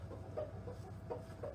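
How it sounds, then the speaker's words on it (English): Bertie, a small rooster on a farm, gives a few soft, brief clucks at the roost, quiet and close with nothing else around them. "This is also a little rooster."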